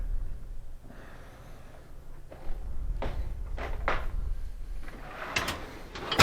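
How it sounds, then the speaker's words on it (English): The upper drawer of a KitchenAid refrigerator is pulled out, giving several short plastic scrapes and knocks spread over a few seconds, close and fairly quiet. "you'll just remove the upper"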